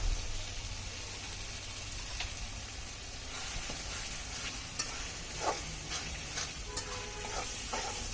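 Spices and softened frozen tomatoes sauté in a pan while fish is being braised, giving a steady low sizzle with occasional clinks and stirring scrapes, fairly quiet and close, with no talking.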